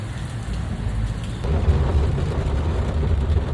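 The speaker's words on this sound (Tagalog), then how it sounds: "Lalo pang lumakas ang ulan at kahit sa loob ng sasakyan ay rinig na rinig yung mga patak nito sa bubong" Heavy rain drums steadily and densely on a car roof, heard from inside the car, with a deep low rumble underneath that swells louder partway through.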